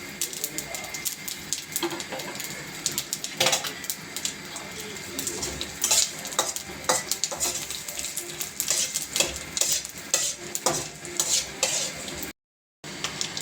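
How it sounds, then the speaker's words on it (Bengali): Steady crackling sizzle of whole spices hitting hot mustard oil in a kadai, with occasional stirring clinks, close and continuous throughout. "এইটা আমি এবার সর্ষের তেল কড়াইতে গরম করতে দিয়েছিলাম, এর মধ্যে এবার দিয়ে দেবো।"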